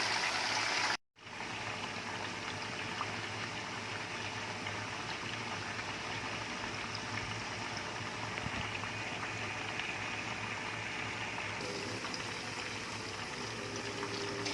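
Steady, dense sizzling and crackling of chicken drumsticks and garlic frying in hot oil, continuous and fairly close, with a brief dropout near the start.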